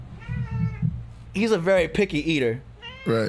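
A fussy pet cat meows several times at close range, with drawn-out, wavering cries mixed in with people talking nearby.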